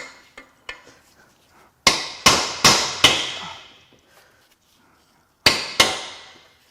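Sharp hammer strikes on a metal part of a Subaru TR580 CVT transmission ring out, a few scattered light taps followed by a quick series of four loud blows, then two more after a pause.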